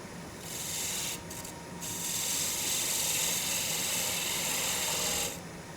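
A skew chisel cuts wood on a lathe, producing a loud continuous rasping hiss. The hiss breaks off briefly twice near the start, then runs steadily before stopping at the end, with no voices.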